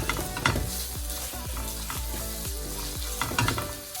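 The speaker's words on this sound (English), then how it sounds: "we want to add our garlic puree and our tomato puree. So we're going to go in all with that and give that a little stir through" Garlic puree and tomato puree are stirred through in a frying pan, with a steady close sizzle under a regular rhythm of scraping strokes, about two per second, and no voices.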